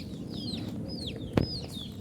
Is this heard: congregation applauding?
no